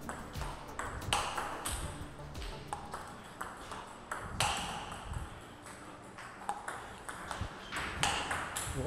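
A table tennis ball strikes a paddle faced with MX-P rubber again and again, giving sharp, close pings at an uneven rally pace, with a faint voice in the background.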